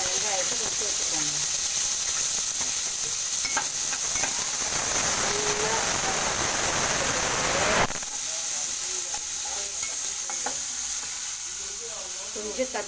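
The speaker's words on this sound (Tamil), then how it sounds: "கொஞ்சம் கருவேப்பிலை போட்டோம்னா சலசலப்பாக ஒரு சவுண்ட் வரும்" Curry leaves crackling and hissing in hot oil in a pan, with a loud, continuous sizzle and popping that eases slightly after a stir partway through, heard close up.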